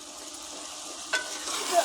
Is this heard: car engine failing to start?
no